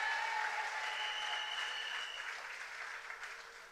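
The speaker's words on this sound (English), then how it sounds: "Can we give her a round of applause again?" Audience applause at a public gathering in Diego Martin, a dense, steady patter of many hands clapping that starts loud and gradually thins over a few seconds.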